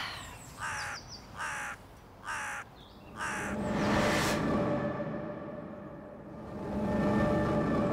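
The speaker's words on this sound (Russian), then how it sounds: "Это птички поют." Crows caw four times in a steady rhythm over rural outdoor ambience, then a broad, sustained rumbling noise rises and takes over.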